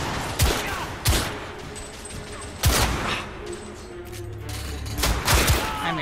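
Gunfire in the video game The Order: 1886, with several sharp, loud shots and bursts scattered unevenly across the stretch over a dense game background.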